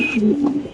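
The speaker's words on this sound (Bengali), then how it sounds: "কবুতরের ডাক দেখেন" A single short, close coo from a white Spanish pigeon, a low throaty call that lasts under a second.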